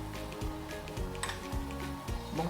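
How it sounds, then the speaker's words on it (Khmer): A pot of tom yum soup with snakehead fish bubbles on the stove, a close, busy boil with soft pops and occasional light clinks of the pot. "ឥឡូវនេះស្លយើងពុះហើយ"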